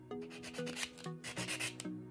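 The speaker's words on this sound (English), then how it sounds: "I'm gonna buff close to the nail, the cuticle, and I'm gonna buff the edges, just buff them downwards" Nail buffer rubbed briskly over fingernails near the cuticle and along the edges in short downward strokes, giving a steady run of close, squeaky rasping passes.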